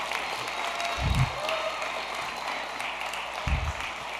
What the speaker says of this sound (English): Come on, nice round of applause.